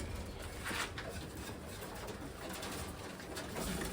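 Old line racing pigeons coo softly in a loft, with low repeated calls over a steady background hum and rustle.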